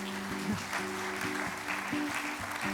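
Applause at a table tennis club's award ceremony, a soft, steady patter of many hands under sustained tonal background music, fairly faint and distant throughout.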